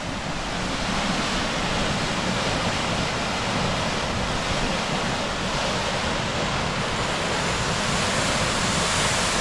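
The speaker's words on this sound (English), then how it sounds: "That's how you flush a hydrant." Water roars from a broken fire hydrant being flushed, a loud, steady, broadband gush that holds constant and close with no letup.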